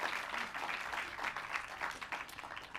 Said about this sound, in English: I think we're going to applaud for them